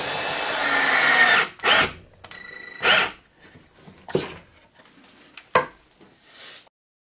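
A power drill drives screws into tabletop mounting clips on veneered furniture in short separate bursts, first a longer run then several brief spins and clicks, close and fairly loud with quiet gaps between.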